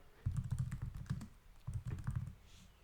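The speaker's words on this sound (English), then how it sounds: "So I'm just here in Google and I would type" Someone types a search on a computer keyboard in two quick bursts of clicking keystrokes, close and clear, with a short pause between them.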